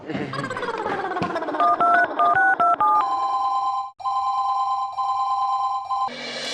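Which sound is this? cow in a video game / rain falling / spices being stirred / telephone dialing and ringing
telephone dialing and ringing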